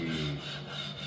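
A bow saw (archetto) with an emery abrasive cuts through stone for Florentine mosaic work. The stroke is a steady, close gritty rasping with a harsh scraping texture throughout, and no speech.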